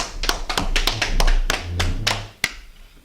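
A few people clapping at a church class gathering in Atlanta, a loose series of sharp individual claps with uneven rhythm, close and fairly loud, one final clap after a short pause.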